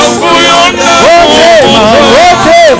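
A church congregation at a Sunday service cheers and acclaims loudly, with voices rising and falling in long wavering shouts over a dense crowd roar close by.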